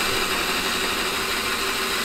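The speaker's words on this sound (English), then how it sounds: "now I'm gonna drill into the metal of the van with these heavy duty self-tapping screws" A drill drives heavy-duty self-tapping screws into the metal body of a van, giving a steady, close, grinding whir that holds constant for the short stretch without pauses or voices.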